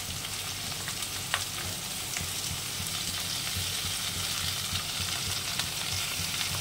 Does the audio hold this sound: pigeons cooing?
no